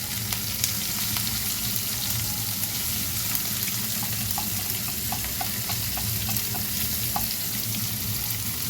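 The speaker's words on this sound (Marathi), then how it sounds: "कांदा आता आपण छान परतून घेऊया व्यवस्थित" Chopped onion fries in a pan with curry leaves for a moth bean and peanut usal, a loud, dense, steady sizzle with faint light taps from stirring.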